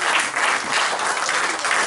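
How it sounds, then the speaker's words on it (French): A church congregation at a Sunday service bursts into loud, steady applause, a dense wash of clapping close by with no break. "Donnons une acclamation au Seigneur."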